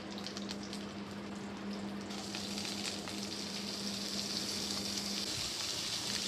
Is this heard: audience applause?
no